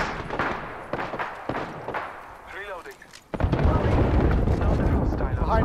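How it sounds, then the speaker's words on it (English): A frag grenade in the video game Apex Legends bursts into a loud, sustained boom partway through, after earlier sharp shots and clatter, with voices speaking over the action. "Frag out."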